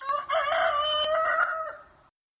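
A single loud rooster crow rings out close by, a long rising-and-falling call lasting about two seconds.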